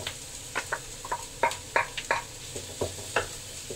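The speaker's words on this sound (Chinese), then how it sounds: "刚稍微炒了一下了啊，炒个酱差不多就可以了" Mushrooms and cream are stir-fried in a pan at close range, with a soft steady sizzle under a series of light scraping and tapping stirs, and no talking.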